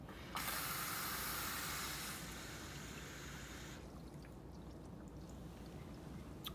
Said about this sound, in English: So let's turn on the water and take a look.